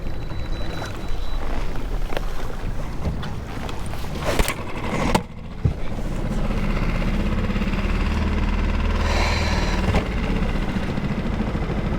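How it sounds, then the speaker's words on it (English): A Mercury 6hp outboard motor on a small boat runs with a steady, loud drone that holds constant for most of the stretch, with a brief dip and clunk partway through and water noise underneath. "Maybe I should just try get the outboard going."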